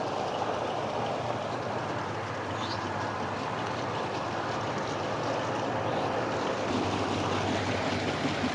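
Water pours steadily down a channel at a china clay works, flowing on into the clay settling ponds, a continuous broadband rushing wash held at an even level for the whole stretch.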